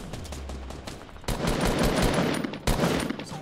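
Rapid bursts of gunfire in the Fortnite video game rattle continuously, with two sharp loud shots standing out over dense, fast repeating fire.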